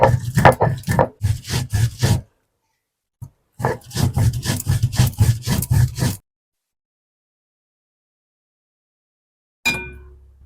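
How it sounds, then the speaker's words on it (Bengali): Garam masala spices ground on a grinding stone by hand, loud rhythmic scraping strokes in two bursts of quick back-and-forth grinding, a single knock between them, then a long silence and one final scrape. "এবারে আমি গরম মশলাগুলো বেটে নিচ্ছি"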